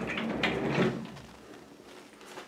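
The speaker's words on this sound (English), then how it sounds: "Has a barn door." Sliding barn door on a hotel bathroom in Winnipeg rolls along its track in a short, quiet scraping glide that fades out.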